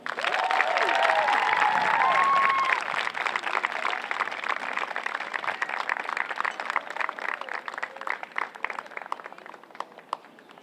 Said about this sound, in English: please give a big round of applause for the graduating senior, Jenna Haggerty.